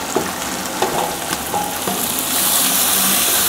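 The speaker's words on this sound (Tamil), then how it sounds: "கடுகு பொரிஞ்சதும் கருவேப்பிலை, பச்சை மிளகா, கட் பண்ணி வச்சுருக்க வெங்காயத்தை சேர்த்துக்கலாம்" Mustard seeds, curry leaves, green chilli and chopped onion fry in hot oil for South Indian sambar, giving a steady sizzle with a few sharp pops and crackles that swells into a louder hiss toward the end.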